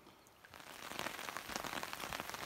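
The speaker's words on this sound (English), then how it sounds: "it looks like the rain is settling in a bit" Rain falling in the bush near a shack, a soft hiss that swells after a quiet start into steady patter on surrounding surfaces, continuous and fairly faint.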